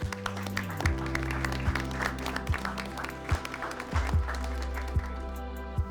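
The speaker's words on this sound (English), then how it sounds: "I think that deserves a round of applause" Round of applause from attendees at a community presentation, moderate clapping running throughout over a steady low hum and tonal background noise, with some voices mixed in.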